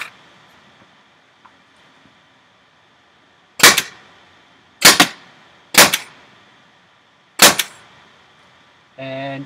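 A Tippmann TCR paintball marker fires four sharp, loud shots with brittle tournament-grade paint, spaced unevenly over several seconds against a quiet outdoor background, followed by a brief rattling burst at the end.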